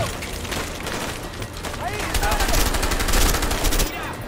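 Sustained bursts of gunfire from the video game A Way Out, a dense crackling barrage that swells toward the end, with voices talking underneath.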